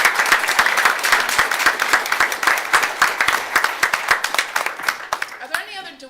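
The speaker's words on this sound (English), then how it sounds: "So if we can just give a round of applause." Audience at a school board meeting applauds a staff recognition, a close, fairly small group clapping with distinct individual claps that thin out and stop near the end, followed by faint voices.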